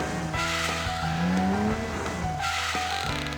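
In the video game Live A Hero, tires squeal and screech in short bursts over a roaring engine on winding mountain roads, with gear shifts and revs in a fast racing sequence.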